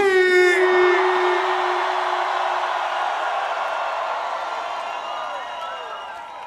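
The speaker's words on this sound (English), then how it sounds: "I wanna hear noise after three. This is a Serbian crowd." Huge Serbian festival crowd at EXIT Festival's main stage roaring and cheering, a dense, sustained wall of shouting that follows a brief voice and slowly fades.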